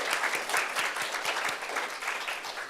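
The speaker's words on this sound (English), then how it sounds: "Let's give a round of applause to all of our scholars." At a McNair scholars symposium, an audience applauds the scholars with a brief, even patter of clapping that stays fairly soft and steady for a few seconds.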